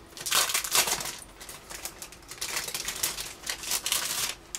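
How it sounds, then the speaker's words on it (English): Plastic packaging around a Crafters Companion card kit's card blanks crinkles and crackles in irregular bursts as it is opened nearby, fairly loud and continuous with no talking. "I'm going to come away to where the crinkling may not be so loud to open these"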